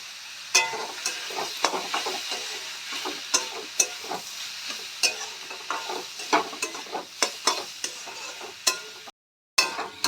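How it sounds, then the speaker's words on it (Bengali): Spices with a little turmeric powder and nuts frying in a pan for Dhaka-style kosha mangsho, steady soft sizzle broken by repeated sharp scraping stirs, close up, with a brief dropout near the end. "সবগুলো আমরা ভালো করে ভেজে নেব। এখানে আমি সামান্য হলুদ গুঁড়ো অ্যাড করে দেবো।"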